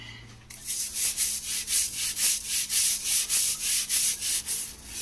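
Kitchen tile grout is scrubbed by hand, giving about a dozen rhythmic, raspy back-and-forth strokes, close and clear with no talking.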